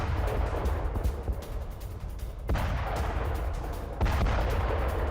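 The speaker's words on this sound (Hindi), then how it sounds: "टोरस्क में हुआ विध्वंसक ड्रोन अटैक" Blasts and gunfire-like bursts from a drone attack near Toretsk in war news footage, a dense rumbling barrage with sharp louder hits around the middle and near the end, no voices.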